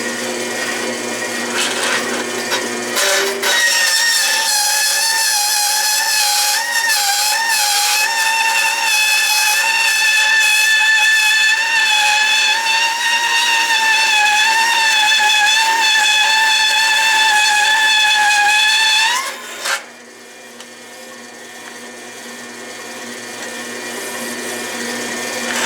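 A converted Delta saw driven by a DC motor cuts metal with a loud, steady, whining screech that holds for about sixteen seconds, wavering slightly in pitch, then stops abruptly, leaving a fainter motor hum.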